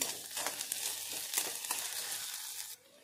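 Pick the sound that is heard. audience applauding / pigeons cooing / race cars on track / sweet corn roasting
sweet corn roasting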